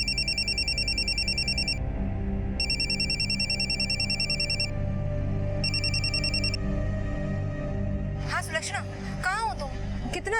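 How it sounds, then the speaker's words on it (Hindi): A mobile phone rings from an incoming call, three evenly spaced electronic ring bursts close by over a low background hum, then a brief rustle as the ringing stops. "और मैंने पीसीओ से उसके मोबाइल पर कॉल किया।"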